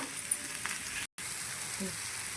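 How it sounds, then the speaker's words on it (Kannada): Chili, ginger and garlic fry in a pan with a soft, steady sizzle and faint crackles, briefly cut off by a short silent gap partway through. "ಇವಾಗ ಎಲ್ಲ ಚೆನ್ನಾಗಿ ಫ್ರೈ ಮಾಡ್ಕೊಳ್ಳೋಣ."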